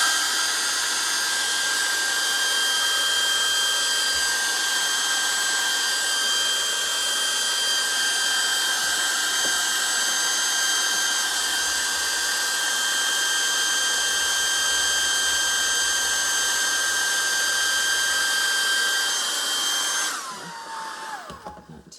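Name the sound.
hairdryer blowing on watercolor painting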